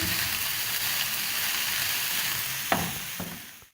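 Chicken filling with red bell pepper is stirred in a hot pan, a continuous close sizzle with a couple of short scraping strokes near the end, no talking.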